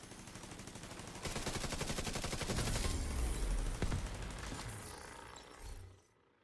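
Sustained machine gun fire in The Division 2 on PC, set on city streets in Brooklyn: a dense, loud, rapid burst lasting several seconds with a few heavier impacts before it cuts off.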